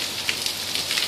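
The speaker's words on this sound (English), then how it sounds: "It's pouring rain." Pouring rain falls steadily outdoors, a dense hissing patter on surfaces with a few louder drops, with no voices.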